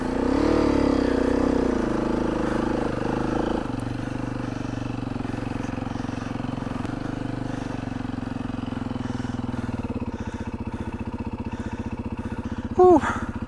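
A Honda XR650R dirt bike idles steadily and close by on a forest trail, its low engine drone running throughout, with a brief sharper burst near the end and voices in the background.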